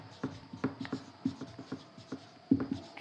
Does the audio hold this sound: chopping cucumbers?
no